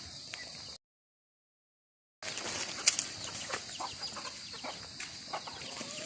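Chickens cluck and rustle nearby, with bursts of wing flapping amid a hiss of background noise, after a short gap of silence.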